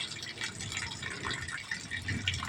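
Water from a public canal gushes and pours steadily against a concrete restroom wall, a continuous close splashing rush with no voices.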